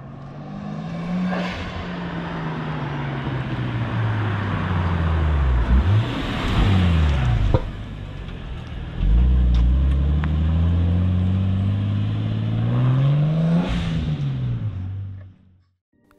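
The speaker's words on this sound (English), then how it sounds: "All I'm going to do now is take it out for a quick drive to see that nothing's rubbing" A Porsche 964 on new wheels is driven past, its engine rising and falling through repeated revs and gear changes, loud and near, before it fades out at the end.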